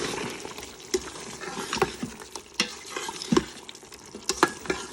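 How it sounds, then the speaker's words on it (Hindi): Beef karahi masala with softened tomatoes, black pepper and chili flakes fries in a pan, a steady sizzle broken by scraping stirs and sharp spattering pops, close and without talk. "ये भून रहा है, टमाटर बिल्कुल गल गए हैं"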